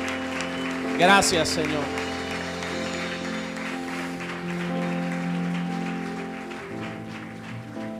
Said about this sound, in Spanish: déle un aplauso a Dios